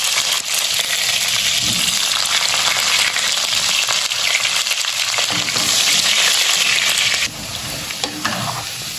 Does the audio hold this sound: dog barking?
no